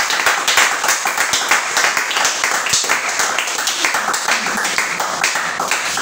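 A church congregation clapping hard in a fast, steady rhythm, dense and loud, the claps close and continuous throughout with faint voices mixed underneath.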